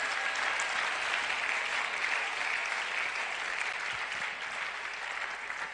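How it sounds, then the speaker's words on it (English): A seated audience at a youth dialogue event with Ghana's finance minister claps steadily, a dense, even wash of applause with no pauses, heard from a moderate distance. "Please clap for him."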